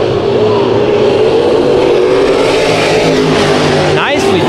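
A modified race car runs at full throttle on a speedway, its loud, steady engine roar droning close throughout with a brief rise near the end.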